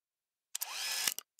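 A pitch-shifted camera shutter and motor sound works as a robotic servo effect: a short mechanical whir rises out of silence, then ends in quick clicks.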